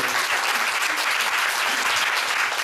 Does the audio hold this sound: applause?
yes